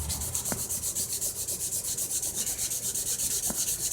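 Steady back-and-forth sanding on the finish of a BC Rich Warlock guitar, a continuous rhythmic rubbing hiss with a few light knocks, close up and without talk.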